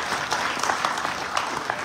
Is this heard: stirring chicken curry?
no